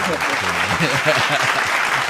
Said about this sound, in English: You had to get the real quick applause.